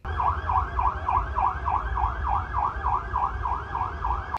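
A mock drill siren near a railway station in Hyderabad wails, rising and falling in a steady repeating cycle, loud and continuous over a low rumbling background, with no voices.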